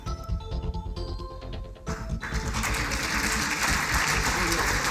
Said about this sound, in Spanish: Con ese aplauso espontáneo